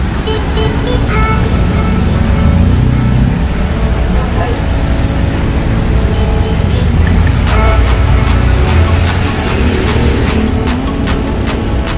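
Loud, busy road traffic near Manila Bay rumbles continuously, with passing engines of buses, cars and trucks and a hiss like an air brake, close by and filling the scene while a person speaks over it.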